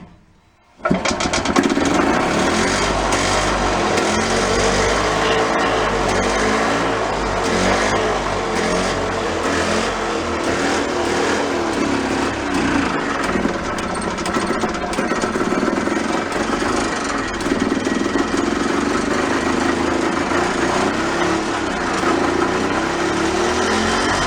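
A golf cart's small engine catches after a restart with choke and runs loud and rough, a dense, rattling chatter that holds steady for over twenty seconds with slight surging.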